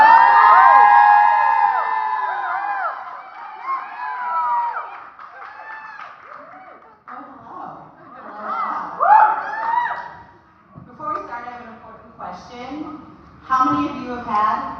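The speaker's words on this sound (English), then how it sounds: "Give a big round of applause." A comedy club crowd in Tacoma whoops, cheers and claps, loud at first with high shouted whistles and yells, then settling into scattered, uneven cheering and clapping.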